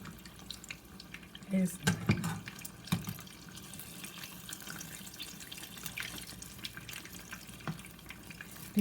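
Plantain swirls fry in hot oil with a steady, soft sizzle, interrupted by a few louder bursts of crackle and spatter near the start, close by and continuous.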